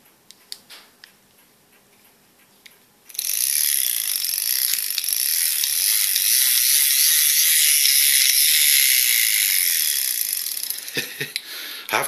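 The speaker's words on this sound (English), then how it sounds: "And lastly, this Viceroy manual dry shaver." A vintage Viceroy manual dry shaver is worked by hand, giving a loud, continuous high-pitched mechanical whirr with ratcheting texture that runs steadily for about eight seconds before winding down, after a few quiet clicks.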